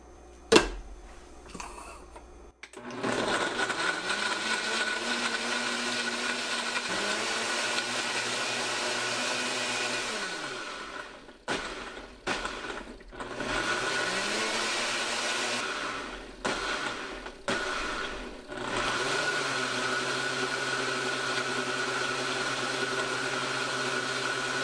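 A Breville Fresh & Furious blender whirs loudly through a tropical pineapple smoothie made with pineapple juice and honey. The motor roars steadily, cuts out in several short stops and restarts, then winds down near the end.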